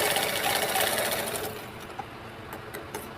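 A sewing machine stitches lining fabric for a blouse in a fast, steady mechanical whir that thins out about halfway, leaving lighter ticks and clicks.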